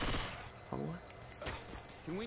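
Gunfire from Left 4 Dead 2, a few sharp broadband shots at irregular intervals mixed with game noise and overlapping voices.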